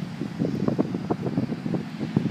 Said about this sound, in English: I'm trying to protect the phone, so I hope it's not too windy.